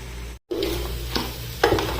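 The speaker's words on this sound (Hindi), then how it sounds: "ये गोश्त अलहदा करके सारा मसाला निकाल के इसमें ऑयल डाल के भी इसको भून रहा हूँ" Meat browns in oil in a pan with a steady close sizzle. A few louder scraping stir strokes sit over it, and the sound stops for a brief moment early on.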